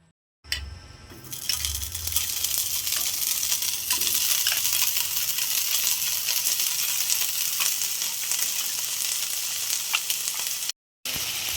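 Ground meat frying in a pan with no oil gives a loud, steady sizzle for the whole stretch. A brief clatter comes at the start and it cuts off sharply near the end, with no voices.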